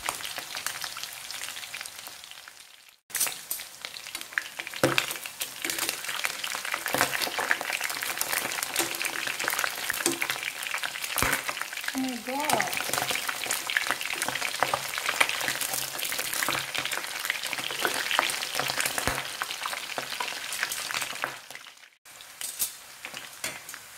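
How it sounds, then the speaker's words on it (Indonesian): Chicken meat fries in hot oil, a loud, steady crackling sizzle lasting about twenty seconds, with occasional utensil clinks against the pan and a brief pause at the start and end. "Kemudian goreng daging ayamnya sampai kecoklatan."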